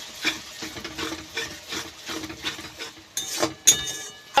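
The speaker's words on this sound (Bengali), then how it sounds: "মশলাটা ভালো করে একটু ভেজে নেব।" Spice masala with Kashmiri red chilli being stirred and fried in a pan for Hyderabadi chicken kosha, soft sizzling under repeated scraping strokes of a spoon, with a sharp metal clink near the end.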